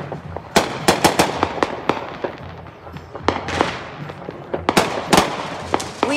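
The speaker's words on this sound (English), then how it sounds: "Weasel bomb, they said that one." Weasel bomb fireworks crackle and pop in rapid irregular bursts during a Fourth of July celebration, sharp loud reports scattered throughout with a few voices faintly in the background.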